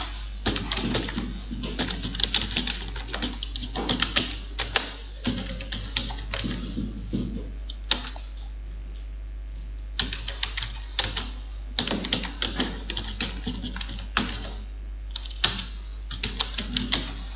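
Keys are typed in bursts on a computer keyboard while entering text in Microsoft Word, with irregular rapid clicks separated by short pauses, close and fairly quiet, with no voices.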